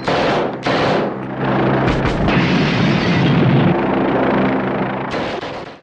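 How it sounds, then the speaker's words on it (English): A loud, sustained explosion in a film scene, set off by grenades thrown into a window, rumbles and roars for several seconds, with bursts of blasts and debris crackling, fading out abruptly at the end. "and you get an explosion."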